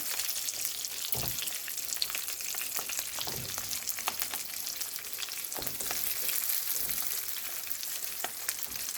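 Stuffed brinjal and chillies frying on low heat in a pan, a steady soft sizzle and crackle running throughout with occasional louder pops, no voices.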